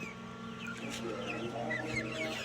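Chickens on a farm cluck and chatter softly throughout, with scattered higher calls over a steady low hum of farm machinery.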